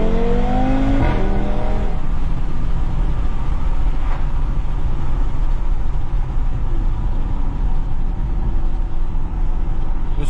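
Audi TT RS five-cylinder engine in sport exhaust mode, a loud, steady rumbling drone with rising harmonic sweeps as it revs and pulls, heard close and continuous throughout.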